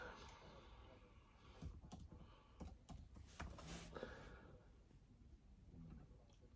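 Soft, irregular keyboard clicks tapping away at a steady pace, faint and close, with a low background hum and no talking.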